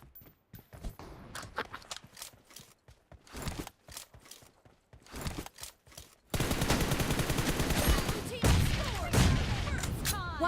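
Rapid bursts of gunfire from a battle royale video game crackle in loud, dense volleys, sparse and choppy at first, then merging into a sustained, heavy barrage of shots.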